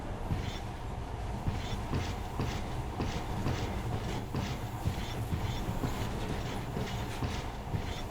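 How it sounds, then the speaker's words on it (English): The monorail train in Metro Last Light Redux runs steadily, with a continuous rumbling roll and regular clickety-clack beats of the wheels throughout, loud and close with no talking. "In the past, trains were ordinary things, but now this monorail seems magic, doesn't it?"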